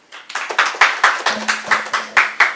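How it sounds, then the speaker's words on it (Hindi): Audience applause at a business seminar on financial entrepreneurship: about ten sharp, evenly spaced claps in a steady rhythm, close and fairly loud, with no talk over them. "जोरदार तालियां।"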